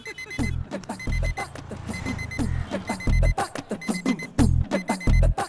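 An alarm beeps in repeated short bursts over a thumping music beat, a steady electronic pattern that runs the whole time in a busy scene.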